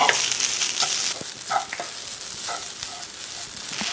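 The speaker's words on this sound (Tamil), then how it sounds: "இப்போ அதை போட்டு நல்லா கொஞ்சம் நெய்யில் போட்டு ஃப்ரை பண்ணிக்கலாம்." Grated coconut frying in ghee in a pan for a sweet potato obbattu, a steady crackling sizzle with a few clinks and scrapes of stirring, close and unaccompanied by talk.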